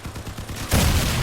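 Vehicle cannon fire in the vehicle combat game Crossout, a muffled rumbling of rapid impacts that swells into a loud, dense blast roar, with no talking.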